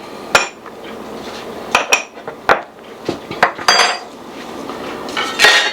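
Meatball ingredients for Mexican albondigas, seasoned with salt and black pepper, being mixed in a bowl, with scattered clinks and knocks of a utensil against the dish amid soft squishing, nearby and moderately loud, no talking.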